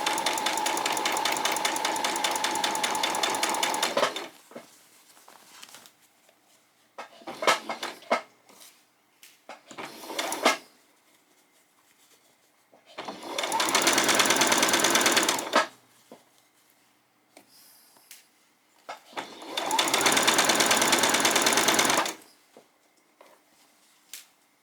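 A sewing machine zigzag-stitches a doll's skirt, running in several loud sustained bursts of a few seconds each, with short stop-start runs and quiet pauses between them.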